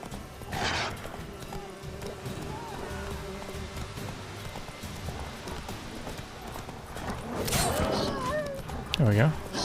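Roach, Geralt's horse in The Witcher 3, trots with rhythmic hoof clops under a game soundscape, with a brief whinny-like cry near the end; a voice talks over parts of it.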